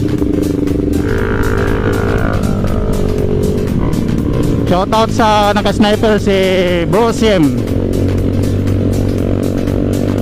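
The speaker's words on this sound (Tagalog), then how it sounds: "Napakaingay ng tambutso mo Bro Sim." A motorcycle with a loud, noisy exhaust rides along with a group, its engine droning steadily and close throughout while someone talks over it.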